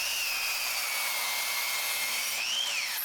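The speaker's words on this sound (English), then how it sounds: "using my miter saw to cut this 4x4." A miter saw cuts through a treated 4x4 wooden post, giving a loud, continuous high-pitched whine with the blade's pitch dipping and rising near the end of the short cut.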